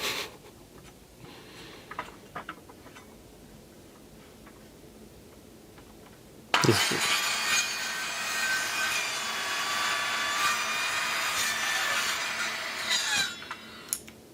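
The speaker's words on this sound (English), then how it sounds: "Cutting the board a little bit." Quiet scattered taps and clicks at first, then a saw grinds steadily through a wooden board on a table, a loud continuous rasping that carries on to the end.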